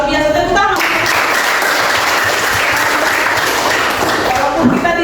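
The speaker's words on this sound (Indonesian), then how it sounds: "Luar biasa, tepuk tangan." A classroom of students bursting into sustained applause, dense clapping that runs loud and steady for several seconds after a teacher's brief voice at the start.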